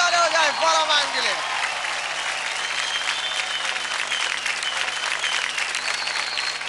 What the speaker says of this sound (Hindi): कम ऑन गाइस, जोरदार ताली हो जाए फराह मैम के लिए।